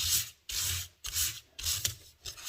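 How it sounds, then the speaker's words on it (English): Four steady rounds of dry, scratchy sandpaper rubbing on cardstock, each stroke lasting about half a second with brief pauses between, close up and moderately loud. "Take that sanding paper."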